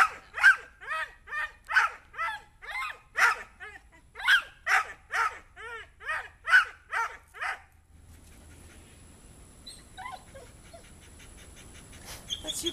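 A dog barks in a rapid series of about a dozen sharp, whiny yelps for several seconds, close and loud, then falls quiet to faint background sounds with a few soft high noises.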